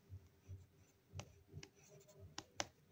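During a maths lesson on primitive functions, a writing implement scratches and taps on a board in short, soft strokes with brief gaps. The sound is quiet and no one speaks.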